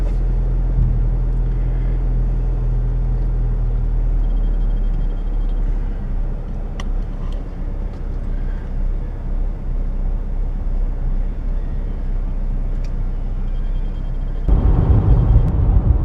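A Chevy Trax with freshly done front brakes drives around the block on a test run, a steady low engine and road drone with faint clicks, rising louder near the end.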